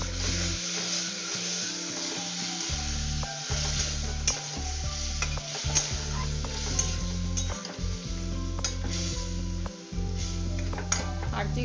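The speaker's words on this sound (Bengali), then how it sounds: "আমি এটাকে একটু নাড়াচাড়া করেই দইটা অ্যাড করে দিচ্ছি।" Yogurt being stirred into a sizzling pan for a Bengali doi begun ilish (hilsa with eggplant) dish, with steady loud frying hiss and repeated scraping and clinks of a spoon against the pan.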